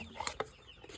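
Chickens on a farm give a couple of soft, close clucks during a brief quiet moment at feeding time.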